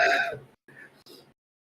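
A short throat-clearing cough from the video game Fate/Stay Night, one rough burst followed by two softer, quieter clearing sounds, close and brief.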